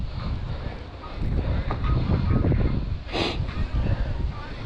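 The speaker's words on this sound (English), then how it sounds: "It's hella windy." Strong gusting wind buffets the microphone on an outdoor disc golf course, a dense low roar that stays loud throughout, with a brief rustling burst near the end.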